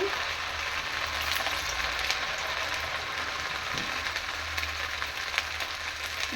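Rava vade frying in hot oil gives a steady, dense sizzle with crackling bubbles, close and continuous, with no one talking.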